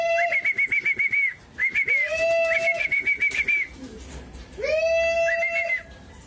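Racing pigeons at a loft during a training flight, calling with bright whistling, warbling notes in several bursts, loud and close, with faint rustling underneath and no talk.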